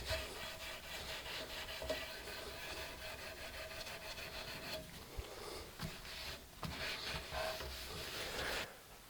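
A cloth rubs steadily across the cleaned top of a wooden chair under repair. The rough scrubbing strokes are close and fairly even, with brief pauses, and nobody talks.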